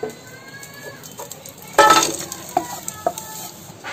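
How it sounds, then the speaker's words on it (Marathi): Jaggery melting in a hot pan is stirred with a spoon, giving a steady low sizzle and scraping, with a few sharper knocks of the utensil against the pan. "गुळ आपला पिघललाय बघ, गरम केलाय चांगला."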